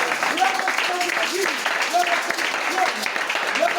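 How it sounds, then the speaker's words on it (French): A French-speaking church congregation applauding and cheering for the Lord during a pastor's sermon, with dense, steady clapping and raised voices filling the room for the whole stretch. "Est-ce qu'on peut acclamer pour le Seigneur?"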